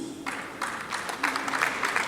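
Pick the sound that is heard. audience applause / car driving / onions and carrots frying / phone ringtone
audience applause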